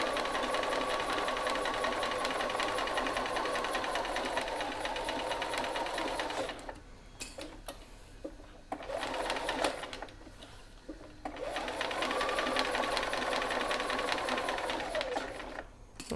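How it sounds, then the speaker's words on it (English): A sewing machine runs a long basting stitch to fix fabric onto foam for a bag, with a steady fast whirring hum in long runs broken by short pauses and a few clunks. "you're just stitching around the outside with that long stitch length"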